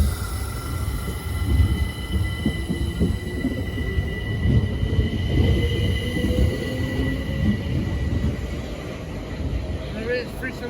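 A Southern Class 377 electric train pulls out of a London station, its steady rumble and rising motor whine continuing throughout, with wheel squeal and a voice speaking over it.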